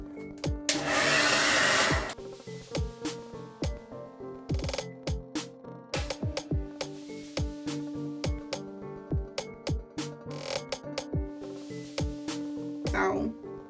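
A hair dryer blasts loudly for about a second, then clicks and taps follow with a quieter steady whir underneath, and the dryer returns briefly at the end.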